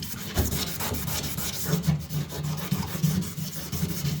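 A Scotch-Brite pad scrubs a boat hull with steady, close back-and-forth rubbing strokes and faint squeaks, continuing without pause.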